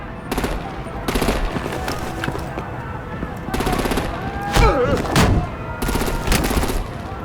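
Rapid bursts of artillery and automatic gunfire in a Batman: The Enemy Within video game battle, loud and repeated in clusters across the scene, with a few sharper blasts and whooshes mixed in and no talking.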